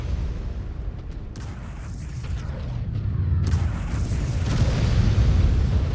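Deep booming artillery blasts in the mech combat game MechWarrior 5: Clans, heavy rumbling low end swelling and rolling on, with two broad bursts layered over a loud continuous battle roar.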